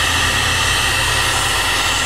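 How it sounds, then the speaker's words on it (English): A hot-air heat gun roars with a steady, loud, unbroken rush of air, used to soften old paint for scraping while refurbishing an old wooden double-hung window. "this heat gun does get hot"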